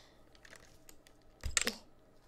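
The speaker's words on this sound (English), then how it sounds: "I'm just kind of cleaning my keyboard today." Computer keyboard being cleaned up close, with soft scattered taps and light clicks, then a brief louder clatter of plastic near the middle before it settles back to faint handling.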